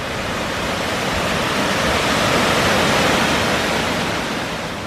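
A river and waterfall in Ennistimon, Ireland give a dense, continuous roar of rushing water, loud and steady with no voices.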